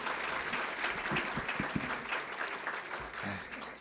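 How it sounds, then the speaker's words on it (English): Audience applause at a State of the Region event in Torrance, a steady wash of clapping from a crowd heard at moderate distance, with faint voices mixed in beneath it. "Let's give her a great big round of applause."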